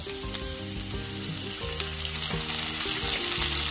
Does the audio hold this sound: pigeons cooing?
no